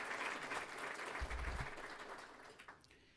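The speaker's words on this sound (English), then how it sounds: "give a round of applause to all the alumni and friends that supported us" Faint, distant applause from diners at an honors dinner, steady at first and then tapering off toward the end, with no voices over it.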